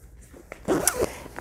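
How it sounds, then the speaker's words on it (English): A zipper on a knitting bag is pulled open in a short, close rasping burst after a few faint handling clicks, with no talking. "so I've got the green zipper"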